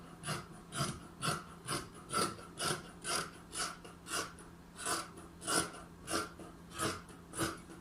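Scissors cutting through skirt fabric for a full-circle flared skirt, a steady rhythm of about a dozen close rasping snips, one after another, with no talk.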